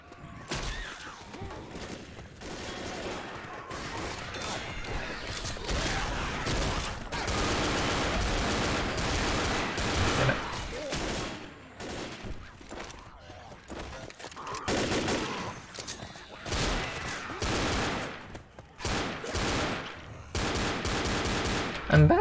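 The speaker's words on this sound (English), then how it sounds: "Alternating between shooting and bashing to prevent damage." Dense Left 4 Dead gameplay: gunshots and automatic fire mixed with thudding melee shove bashes, alternating in loud, rapid bursts with brief pauses, close and continuous over most of the stretch.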